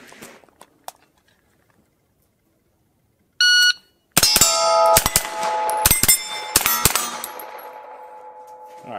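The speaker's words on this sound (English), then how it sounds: "Let's go ahead and put a couple rounds on these targets right here." 9mm rounds from a Sightmark Ultra Shot M-Spec strike steel targets in a rapid string of sharp impacts, each leaving a bright metallic ring that hangs and overlaps, after a single earlier shot and a brief pause.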